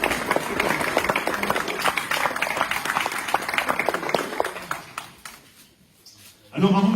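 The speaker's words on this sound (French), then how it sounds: "vous pouvez applaudir Christophe." Crowd applause with scattered cheering at a carnival season opening in Cappelle-la-Grande fills the first few seconds, then fades to near quiet before a voice starts speaking.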